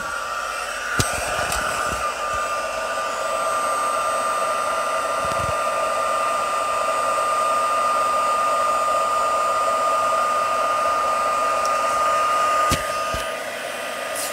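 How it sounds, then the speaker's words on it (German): Heat embossing tool blowing hot air while making a Christmas card, a steady loud whooshing hum with a faint whine that runs continuously for the full stretch, with small clicks near the start and end. "Jetzt schalte ich wieder mein Erhitzungsgerät ein."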